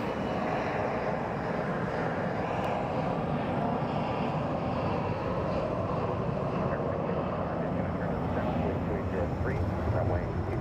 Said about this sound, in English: It's an Airbus, of course, typical in Phoenix. American 1611 going to Las Vegas.